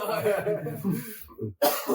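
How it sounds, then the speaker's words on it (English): A short, sharp cough breaks through the middle of ongoing conversation, with talking resuming right after. "That's why I coughed right now."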